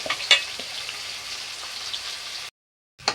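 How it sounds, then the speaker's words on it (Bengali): Mutton coated with chilli powder, turmeric, salt, cumin and coriander powder sizzles and fries in a pan, a steady close crackle with a few sharper stirring clinks, then a short silence before the sizzle returns. "তো মাটনটা আমার আধা ঘন্টা হয়ে গেছে এখন আমি কষিয়ে নেব"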